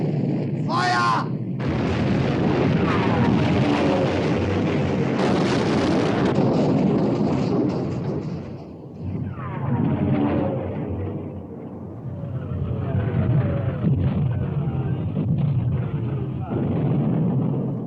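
Heavy naval guns from a warship fire in a 1960 British war film battle scene, loud booming blasts and rumbling under shouted orders and dramatic music, with voices calling out commands.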